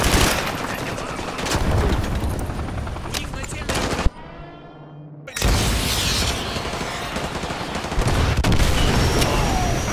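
Guided AGM missiles are fired at an enemy helicopter in Modern Warfare 2 Remastered, heard as loud, dense bursts of blasts and heavy gunfire that break off into a short lull before the barrage resumes.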